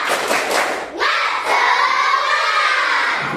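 Classroom of students doing a spirit clapping chant, with loud rhythmic claps and children's voices shouting together in bursts, close and lively throughout.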